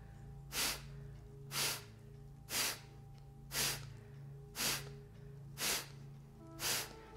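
Forceful exhalations through the nostrils during a breathing exercise, seven sharp, breathy bursts at an even one-per-second rhythm, close and clear over a low steady hum.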